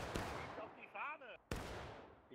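Musket fire in the video game War of Rights: two sharp, close cracks about a second apart, with a shouted voice between them.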